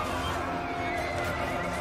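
Horse in the video game Total War Three Kingdoms gives a short, fairly quiet whinny over steady battle-game background noise.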